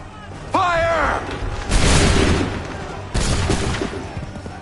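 Musket volleys fired by a line of soldiers in Assassin's Creed 3. Two loud, rough bursts of gunfire each roll for about a second, and a commander's shouted order comes just before the first.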